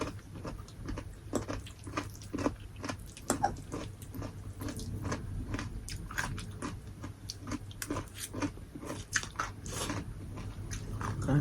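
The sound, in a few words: crunchy chewing of carrots with sweet and sour fish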